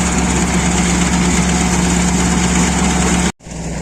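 Sampo 500 combine harvester threshing buckwheat in a field, a loud, steady close engine drone with threshing rumble that cuts out abruptly near the end and then resumes.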